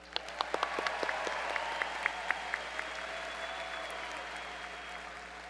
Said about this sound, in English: please make certain that your applause does not overshadow the introduction of other graduates